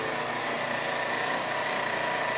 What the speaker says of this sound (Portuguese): A bomba ligou aqui sossegada